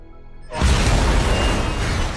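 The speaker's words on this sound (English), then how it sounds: "Explosion." A film explosion bursts in after half a second of near silence, a loud sudden boom that swells into a sustained roaring rumble.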